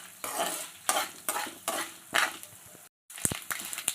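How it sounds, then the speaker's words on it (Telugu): Dried red chillies frying in a pan and being stirred, with repeated bursts of sizzle and scraping about every half second, a brief silent gap, then clattering utensil knocks against the pan. "ఎండుమిరపకాయలు కొంచెం కలర్ మారే వరకు వేపేసుకోవాలి."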